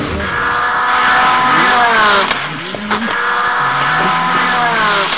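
Car engine revving and pulling away, with rising and falling gear-change sweeps across about five seconds, loud and close, no talk over it.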